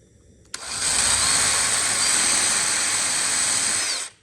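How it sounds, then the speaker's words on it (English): A power drill whirs up suddenly and runs at a steady high pitch for several seconds drilling into a tree, close and loud, then winds down. "Take my drill."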